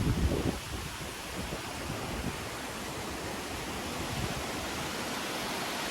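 A steady, dense roar of waterfall spray blown by wind, rushing water mixed with gusting wind, loud and continuous, with a heavier burst at the very start and no voices.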